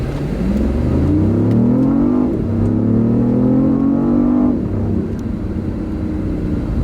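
BMW i8 plug-in hybrid pulling hard on the road, a loud continuous drone whose pitch sweeps upward twice through two long acceleration runs, with a brief drop between them, no talking.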